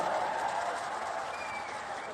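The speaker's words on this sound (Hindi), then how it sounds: "अरविंद धर्मपुरी के लिए उनके स्वागत में जोर से एक बार ताली बजाकर स्वागत करिए हमारे सांसद का।" Applause from a crowd at an outdoor BJP political rally in Nizamabad, a dense, steady wash of clapping that holds evenly throughout and then eases slightly, with no voices standing out.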